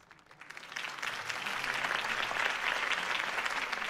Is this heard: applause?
yes